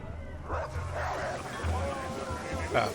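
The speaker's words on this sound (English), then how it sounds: "Oh, must be the dog." Dog barking in the video game The Witcher 3: several short, moderately loud barks and yips at an irregular rhythm, mixed with background game ambience.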